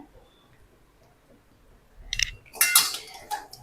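Grated coconut and plantain stirred in a pan for vaazhaikkaai podimaas give a few scraping and clinking strokes of a spoon against metal, starting after a quiet stretch and growing busier near the end.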